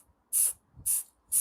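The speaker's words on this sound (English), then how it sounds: "stop spraying that way" Wraithbone spray primer hisses from an aerosol can onto a miniature in three short, evenly spaced bursts, each about a fifth of a second and fairly close, with a faint low rumble between bursts.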